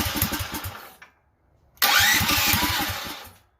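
A DuroMax 440cc generator engine is pulled and catches, two bursts of loud close chugging and roaring separated by a short pause, the second start rising sharply and running on.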